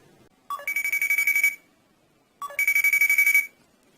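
A phone rings for an incoming call: two bursts of a bright, rapidly pulsing electronic ringtone, each about a second long, separated by a short silence, clear and close with no talking.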